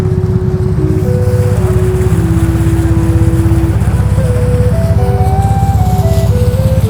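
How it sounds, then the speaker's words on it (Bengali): A loud boat engine drones steadily up close on the Surma River, its low rumble and throbbing hum constant throughout, with faint tonal whines riding over it. "বর্তমানে আমাদের নৌকাটা সুরমা নদী দিয়ে যাত্রা শুরু করেছে"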